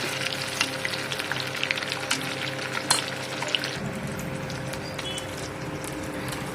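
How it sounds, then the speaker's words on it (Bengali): Fish kebabs fry steadily in a pan, a continuous close sizzle with small pops and crackles, the hiss shifting slightly partway through, with no talking over it. "এখানে কাবাবগুলো ভাজা হয়ে গেছে।"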